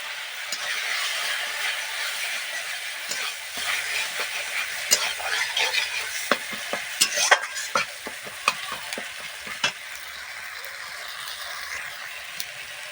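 A pan of softened tomatoes with ground dried fish and dried chili paste is stirred while it fries. Steady sizzling runs throughout, with a dense run of scraping stirring clicks in the middle.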